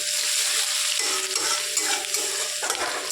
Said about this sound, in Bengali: আদাটা দিয়ে তেলের মধ্যে নেড়ে নিয়ে দিয়ে দেব চেরা পেঁয়াজ একটু